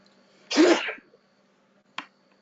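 A single sharp sneeze or throat-clearing burst up close in a quiet room, followed by a faint short click.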